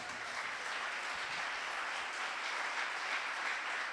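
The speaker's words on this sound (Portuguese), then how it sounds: "Aplaude a Jesus por isso." A church congregation applauds steadily for about four seconds, a dense, even wash of clapping with no pauses and no voices standing out.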